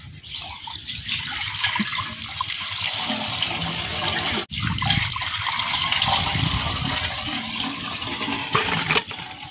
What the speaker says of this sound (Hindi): तो पानी हमने डाल लिया